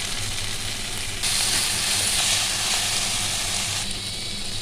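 Onions frying in oil in a pan while cooking green mango rice with fenugreek leaves, a steady loud hiss that swells partway through, close and continuous, with no talking.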